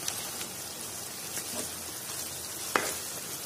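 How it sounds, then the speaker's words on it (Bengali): Fried koi fish (climbing perch) being laid into a hot pan of dopiyaza gives a steady, soft, rain-like sizzle with one sharp clack near the end; no voices. "এখন আমি এখানে ভেজে রাখা মাছগুলো দিয়ে দিচ্ছি।"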